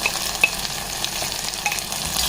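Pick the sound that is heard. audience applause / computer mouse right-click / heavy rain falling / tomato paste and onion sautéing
tomato paste and onion sautéing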